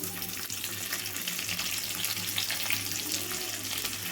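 Onion pieces frying in a hot tempering for a bitter gourd and garlic curry, a steady dense sizzle running throughout, close and without talk.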